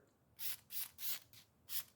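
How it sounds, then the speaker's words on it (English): Ballistol lubricant sprayed onto an AR-15 bolt carrier group during cleaning: four close, hissing aerosol bursts, each about a quarter second, in a steady rhythm with short gaps between. "Spray the inside, spray on the outside here."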